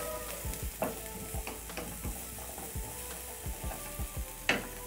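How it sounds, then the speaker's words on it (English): Carrots sautéing with garlic in a pan, a quiet steady sizzle broken by repeated scraping strokes of a stirring utensil at an irregular rhythm, with no voices. "you're going to saute the carrots for 1 minute"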